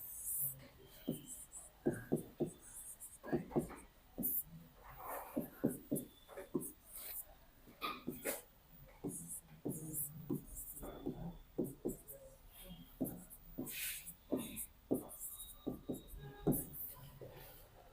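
Pen strokes scratch across paper in a long, irregular run of short scribbles and pauses, close and fairly quiet, during a physics question-bank class in a quiet room with no talk.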